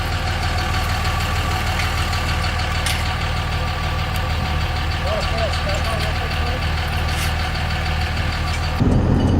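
Chevrolet 454 big block V8 engine fitted in a Volvo, running with a steady, loud, rumbling drone throughout and a slight surge at the very end.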